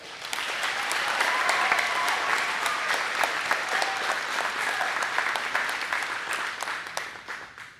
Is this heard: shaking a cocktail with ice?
no